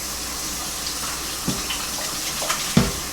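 Tap water runs steadily into a sink while salted pollock is rinsed, a continuous close hiss broken by a few soft splashes and clunks.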